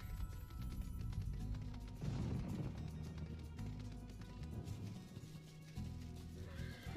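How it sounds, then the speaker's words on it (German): A unicorn mount neighs in Final Fantasy XIV amid game music and effects, the whinny blending with a steady low musical backdrop throughout. "Nein, mein Pferd. Also mein Einhorn."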